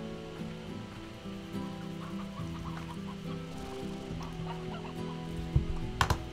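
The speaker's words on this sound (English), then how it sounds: "I heard more chickens." Chickens cluck repeatedly in the Slime Rancher video game, a scatter of short calls over steady game music and ambience, with a few sharp clicks near the end.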